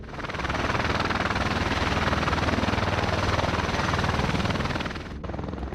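A V-22 Osprey tiltrotor aircraft starting up and departing from a dirt landing site, its rotors beating in a loud, dense, continuous chop close by that holds steady, then briefly dips near the end.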